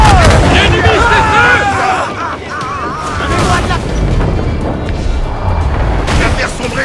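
Ship cannons boom in Assassin's Creed IV Black Flag during a naval battle, heavy blasts and rumbling impacts stacked over a constant roar of sea and combat noise, with some voices and game sounds layered in.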